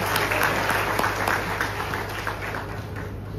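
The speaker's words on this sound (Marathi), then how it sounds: "एका सर्व पदाधिकाऱ्यांसाठी जोरदार टाळ्या वाजवून जाऊन द्या." An audience at a felicitation event gives sustained, dense, moderately loud applause, the clapping steady throughout and fading slightly toward the end.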